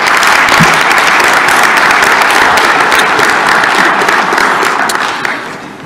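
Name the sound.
audience applause for HAI staff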